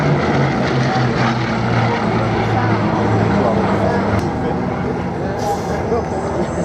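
A Bristol Blenheim's propeller engines drone loud and steady nearby, a continuous heavy roar with a faint voice underneath.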